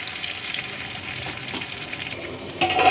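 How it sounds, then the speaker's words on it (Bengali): Maggi noodles frying in hot oil, a steady close sizzle and crackle that holds throughout and grows louder and brighter near the end, with no voices. "এবার আমি আস্তে আস্তে ম্যাগিগুলো দিচ্ছি। ফ্রাই হচ্ছে, খুব সুন্দর করে ফ্রাই হচ্ছে।"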